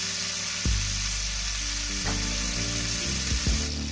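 Burger patties sizzle and fry steadily in hot grease on a flat cooking surface after being flipped, a loud continuous crackle with a few soft thumps and scrapes.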